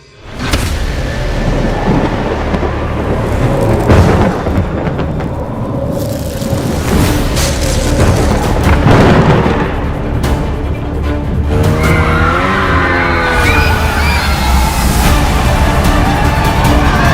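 Thunderstorm effects rumble loudly and continuously inside the Darkoaster indoor coaster at Busch Gardens Williamsburg, with deep booms and roaring noise filling the dark ride space, ending in rising whines and clatter as the ride moves.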